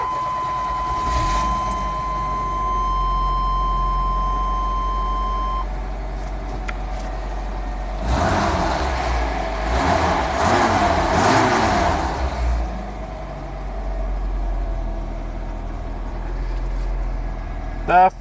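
A 1987 Chevrolet S10 single-cab short-bed pickup with a 2.5 TBI engine and four-speed manual idles with a low, steady hum. A rougher, louder burst comes midway, and a thin beep tone sounds early on.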